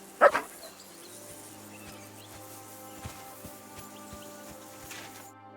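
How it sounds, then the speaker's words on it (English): Dog barking and whimpering in the video game Kingdom Come Deliverance 2, a sharp loud bark at the start followed by quieter yips and whines over a steady medieval ambient background. "Did you deal with that dog of yours?"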